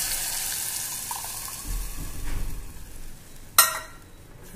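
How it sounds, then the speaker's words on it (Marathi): Buttermilk mixed with gram flour is poured into a pan of fried green chillies for kadhi, giving a faint sizzle and liquid swirl, then a sharp clink near the end. "आता आपण त्याच्यामध्ये ताक टाकणार आहे, बेसन मिक्स केलेलं"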